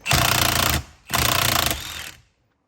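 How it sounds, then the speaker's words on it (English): Impact wrench removing the steering wheel bolt on a 2014–2019 Hyundai Sonata, two loud close rattling bursts of hammering, the second trailing off before silence. "we're gonna go ahead and remove our bolt that holds the steering wheel. And I'm gonna use my impact"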